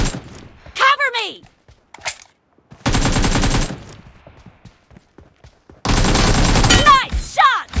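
Gunfire in the mobile battle royale game PUBG Mobile, heard as loud close bursts of automatic fire separated by short gaps, with sharp chirping effects and people talking in between.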